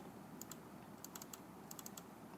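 Someone types on a computer keyboard in short bursts of quick, faint key clicks separated by pauses, over a low steady room hum, with no speech.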